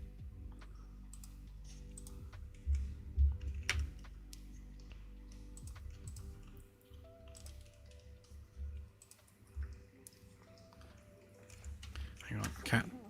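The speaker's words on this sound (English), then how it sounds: "cat stood on keyboard" A cat walks across a computer keyboard, producing scattered soft key clicks and taps at uneven spacing under a quiet background hum, with someone talking at times.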